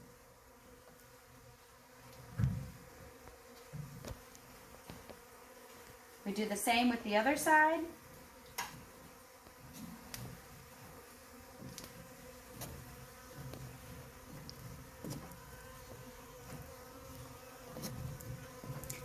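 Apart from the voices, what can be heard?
honey bees buzzing around frames during honey harvest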